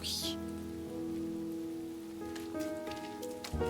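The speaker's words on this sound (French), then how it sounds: "Et cela continua jusqu'à ce que la pluie cesse." Steady rain patters on surfaces in the indie game Behind the Frame: The Finest Scenery, a soft continuous hiss beneath sustained gentle musical tones, without talk.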